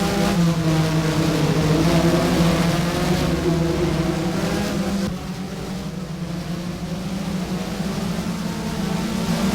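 Porsche Mobil 1 Supercup race cars howl around Hockenheim in the Race07 sim, a loud, steady engine drone at high revs that dips slightly midway and holds, with no talk.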